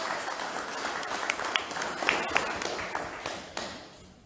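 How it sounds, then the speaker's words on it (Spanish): Church congregation clapping together in applause, a steady crowd of hands with a few sharper claps standing out, loud and close, tapering off toward the end. "Den un aplauso al Señor"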